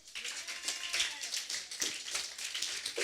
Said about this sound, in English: I want you to clap the library.